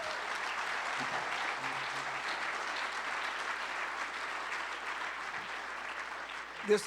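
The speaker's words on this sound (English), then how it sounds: "Please give them another round of applause." Sustained applause from the audience at a mayoral forum in Springfield, a steady even wash of clapping that fills the hall from start to finish at moderate level.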